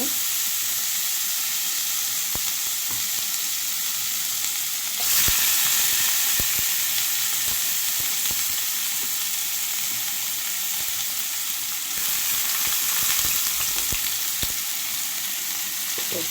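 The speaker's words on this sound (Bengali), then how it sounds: "গোটা জিরে ফোড়ন দিয়ে দিয়েছি ঠিক আছে আঁচ একদম কম আর পেঁয়াজগুলো দিয়ে দেবে" Onions frying with whole cumin seeds in a kadai over very low heat, a steady, even sizzling hiss that swells twice as the pan is stirred, with scattered light scrapes and taps.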